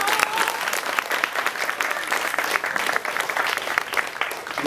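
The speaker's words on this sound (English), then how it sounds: "Give them another round of applause." Audience applauding students after their magic performance at a college finale, loud sustained clapping from a crowd with a few cheers mixed in.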